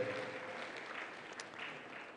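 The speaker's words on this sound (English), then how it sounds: "another round of applause to Dr. Rasha Khaled" An audience gives Dr. Rasha Khaled another round of applause at a formal event, a steady, faint wash of many hands clapping throughout with no voices over it.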